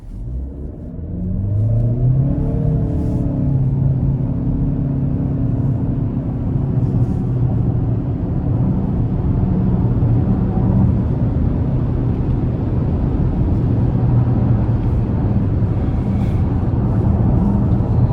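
A 2025 Chevy Equinox RS with a 1.5 turbo engine and CVT pulls away and accelerates, its engine note rising and then holding a steady, loud drone with road rumble.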